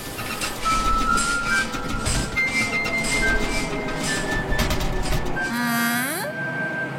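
A cartoon train rumbles steadily along with clinking and rattling, then a rising whistle-like squeal rings out as it brakes to a stop.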